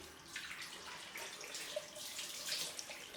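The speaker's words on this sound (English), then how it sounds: "So right, time for cold rinse." A tap runs water for a cold rinse after a shave, giving a faint, steady splashing stream alone, with a few small drips and clinks.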